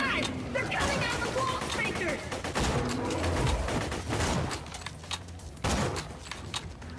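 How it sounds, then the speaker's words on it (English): Gunfire from starter weapons in the video game Borderlands 2, repeated loud shots in bursts across the clip, mixed with game effects and players talking over it. "Oh man, I forgot how horrible the starting guns are."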